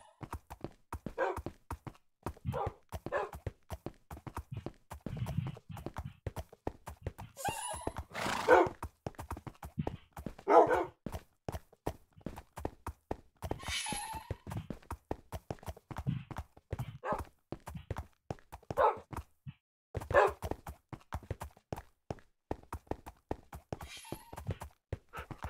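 Minecraft horse hoofs clip-clop steadily at a walking pace, with occasional whinnies and soft thunks as a small group of game animals, including dogs, moves along. Little else is heard.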